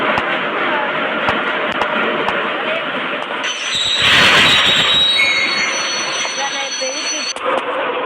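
A train at a railway station in the mobile game Indian Bike Driving 3D rumbles steadily, then its wheels give a long, high, shrill squeal partway through, with someone talking over the sound.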